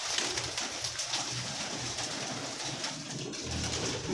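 Pet pigeons, a female and male pair kept for sale, coo softly and repeatedly over steady background noise, with low murmuring calls recurring through the clip.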